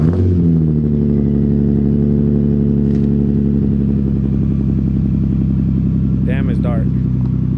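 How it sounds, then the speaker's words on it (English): A drift car fitted with a full ISR exhaust runs loud and close, its steady, rumbling engine note holding throughout with a brief rev flutter near the end, while people talk over it. "we got a full ISR exhaust now"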